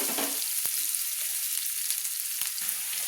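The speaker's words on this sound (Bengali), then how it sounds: "পেঁয়াজ আর রসুনটা আমি একটু হালকা হালকা লাল লাল করে ভেজে নিচ্ছি।" Onion and garlic fry in a pan until lightly browned for a fish-head curry with beans, potato and brinjal, giving a continuous close, bright sizzle punctuated by a few soft stirring knocks.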